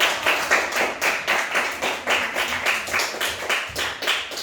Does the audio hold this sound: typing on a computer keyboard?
no